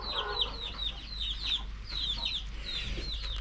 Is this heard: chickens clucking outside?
yes